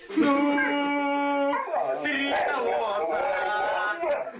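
A dog howls in a long, rising and wavering cry, then breaks into whimpering, yipping vocal sounds, close and fairly loud, with no speech over it.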